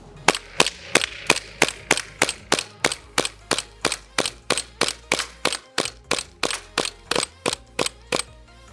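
A CZ-P09 airsoft pistol running on a green gas magazine fires a long, steady string of about two dozen sharp, loud pops, evenly spaced at roughly three per second, in cold weather with no talking.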